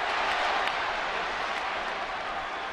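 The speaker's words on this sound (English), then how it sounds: "Now that home run got the crowd into it a little bit." Steady stadium roar from a baseball crowd celebrating a home run at a Dodgers–Giants game, broad cheering and applause holding at a constant level with no voices standing out.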